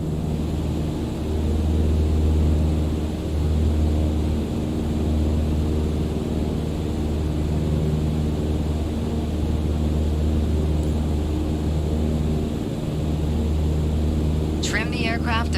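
A steady, droning propeller airplane engine hum from Microsoft Flight Simulator runs unbroken and fairly loud throughout, with a brief faint chime-like sound near the end.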